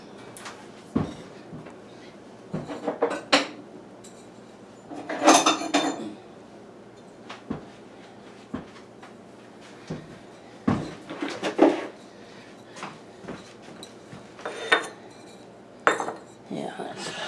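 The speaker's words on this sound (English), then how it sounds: "I'm going to just grab another pot." Hard clatter of plant pots being handled during repotting, a series of sharp knocks and scrapes spread unevenly through the stretch, fairly close, with no talking.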